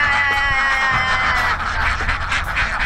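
Ducks quack steadily and loudly in an open-field duck farm, a dense overlapping flock chorus filling the whole stretch with no talk.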